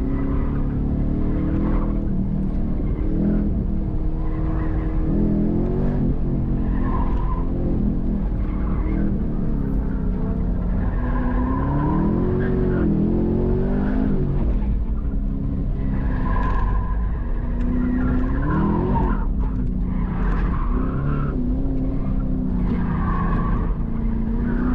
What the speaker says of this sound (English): Let's try to get to it sooner rather than hitting the gas and breaking the rear wheels out